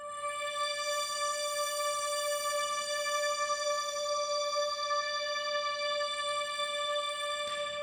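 A Korg Triton Astral Dreams patch sustains a single bright, string-like synth note, steady with gentle modulation, alone for nearly eight seconds.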